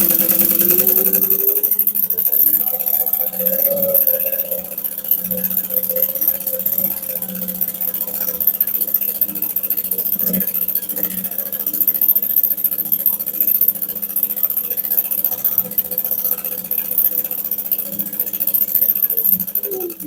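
A sewing machine runs steadily while top stitching down the edge of a long adjustable handbag strap, a continuous close mechanical whir with small rhythmic variations and no pauses.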